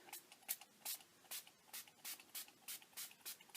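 Distress Spray Stain in the Barn Door color is sprayed onto an art journal page in a rapid series of short, soft hissing bursts, evenly spaced and close, with no talk.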